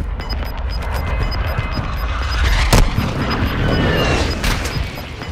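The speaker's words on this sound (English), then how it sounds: "Enemy precision airstrike." Precision airstrike explosions in Call of Duty: Warzone 2 boom over a loud, steady battlefield roar, with one sharp heavy blast midway and another later, mixed among scattered gunfire.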